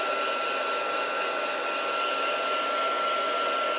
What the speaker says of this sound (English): move the heat tool over the powder